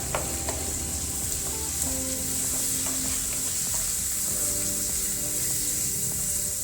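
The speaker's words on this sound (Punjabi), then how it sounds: "ਮਸਾਲਿਆਂ ਨੂੰ ਮਿਕਸ ਕਰ ਦਾਂਗੇ" Ground spices, including black pepper, turmeric and coriander powder, sizzle steadily in hot oil in a pan for an Indian potato-carrot dish, with close scraping stirs over a constant hiss and no talking.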